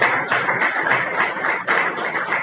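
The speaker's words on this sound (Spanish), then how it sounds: "dale un fuerte aplauso" A church congregation claps along together, a close, fairly loud rhythmic clapping with steady pulses throughout and no talking over it.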